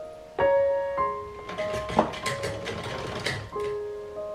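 A sewing machine stitches a thin fabric strip for a baby cap, running in short bursts with starts and stops, the whirring motor close and steady between pauses.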